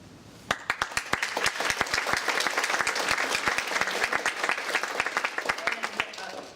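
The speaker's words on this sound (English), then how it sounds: "now we've started, we have to clap for everyone" An audience at a provincial election candidates forum in Ottawa bursts into sustained, dense applause, individual claps sharp and close, lasting several seconds before tapering off.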